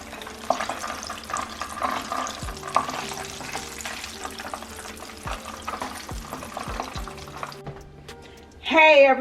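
Onion rings frying in hot oil as a fresh batch is dropped in, giving a steady dense sizzle throughout with a few low clunks, and a brief louder burst of noise at the very end.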